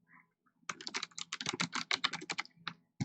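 Quick bursts of keystrokes on a computer keyboard, close and fairly quiet, run in a steady typing rhythm for about two seconds after a brief pause, with no talking.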